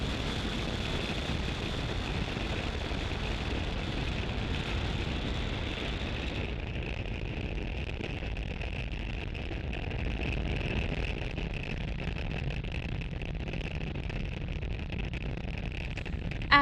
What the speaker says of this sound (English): Ignition and liftoff of Starlink 5-6